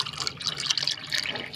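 Water poured into malta orange juice, a steady splashing trickle of liquid lasting under two seconds, close and fairly quiet with no talking.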